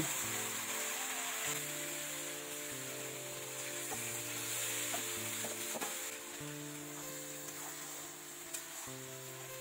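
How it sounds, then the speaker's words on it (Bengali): Marinated mutton pieces, potatoes and garlic fry in oil in a pan, giving a steady, moderately quiet sizzle with occasional stirring scrapes beneath a continuous tonal musical backing. "এখানে দেখো আলু আর রসুন ভেজে নিচ্ছি। এগুলো একটু ভাজা ভাজা হলে মাখানো মাংস দিয়ে দেবো।"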